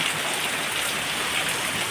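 Heavy winter rain falling through the night in Gujarat, a dense, steady hiss of drops on surfaces, loud and unbroken throughout with no talk.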